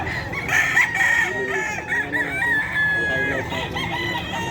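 A gamefowl rooster crows loudly and close at the Bocaue pet market in the Philippines, one long drawn-out call over a busy background of other fowl clucking and faint crowd noise.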